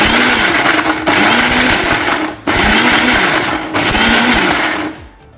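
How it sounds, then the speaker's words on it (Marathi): An electric mixer grinder coarsely grinds dried Bombay duck fish in three loud, steady whirring bursts, switched on and off in pulses with brief gaps between, the last run winding down at the end. "ऑन ऑफ करत करत आपल्याला हे बोंबील जाडसर थोडेसे वाटून घ्यायचे"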